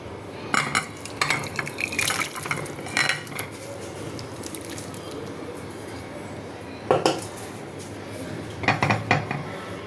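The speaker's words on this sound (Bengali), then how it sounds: "এখন আমি সার্ভ করছি।" Plates, pots and spoons clink and scrape while home-cooked Bengali food, including shrimp with greens, is dished up, with irregular close metallic taps and clatters in bursts over a quiet background.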